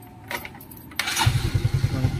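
A Suzuki Smash motorcycle, stored for a long time, starts after a brief clatter of the starter, then settles into a close, loud, pulsing idle with a steady low thump.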